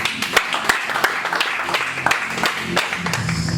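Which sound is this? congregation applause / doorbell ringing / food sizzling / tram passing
congregation applause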